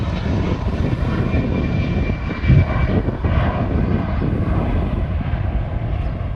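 An Airbus A380 airliner at Honolulu airport in Hawaii produces a steady, loud, broadband jet engine roar that holds constant throughout with no speech.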